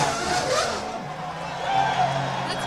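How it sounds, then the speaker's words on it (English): Michael Schumacher's Formula 1 car spins its wheels entering the pits at the 2002 Australian Grand Prix, Albert Park: a brief, moderately distant burst of engine revving and tyre squeal under crowd and circuit ambience. "That noise you can hear, James, is Michael Schumacher just lighting his wheels as he comes in."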